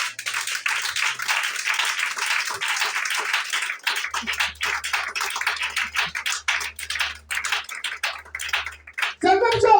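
Church congregation clapping together in praise of Jesus Christ, dense and lively applause that thins into scattered claps, then a voice rises at the end.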